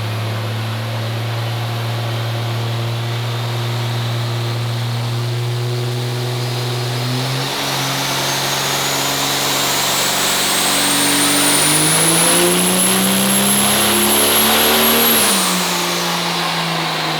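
A 2020 6.7L engine in a race truck revving hard on a dyno, a loud steady drone that climbs in pitch with a rising turbo whine, then tapers off near the end.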